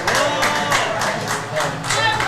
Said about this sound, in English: There's a lot of cheering going on.